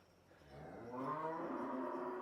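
A cow on a Punjab village livestock farm lets out one long, low moo that swells in loudness and carries close and clear, with no talk over it.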